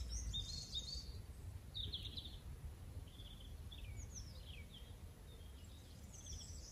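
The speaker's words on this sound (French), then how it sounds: "d'écouter simplement le bruit des oiseaux" Birds sing outdoors in short, scattered chirps and trills, faint and distant over a soft low background rumble, with no one talking.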